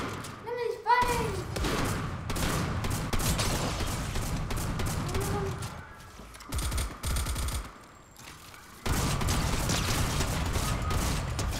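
Bursts of automatic gunfire in the video game Fortnite, rapid close rattling shots over game sounds, with a voice calling out excitedly at the start.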